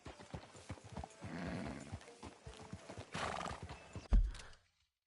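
Horse hooves clip-clop in a quick rhythm in the video game Red Dead Redemption, with a whinny mixed in, ending in a sharp thud before falling silent.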